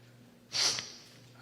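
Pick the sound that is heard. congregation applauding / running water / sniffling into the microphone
sniffling into the microphone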